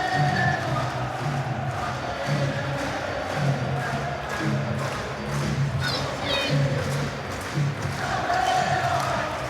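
Capacity football crowd at the iPro Stadium, Derby, a steady roar of massed voices with rhythmic chanting and claps filling the background throughout.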